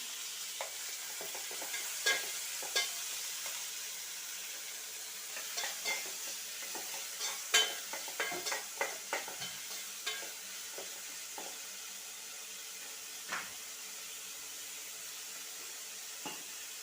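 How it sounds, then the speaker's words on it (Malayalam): Browned onion and chopped tomato frying in a pan while being stirred: a soft continuous sizzle broken by a string of scraping, clattering spoon strokes, bunched in the middle and thinning toward the end, with no voice. "ഇനി ഇതിലേക്ക് അരിഞ്ഞു വെച്ചിരിക്കുന്ന തക്കാളി ഇട്ട് കൊടുക്കാം"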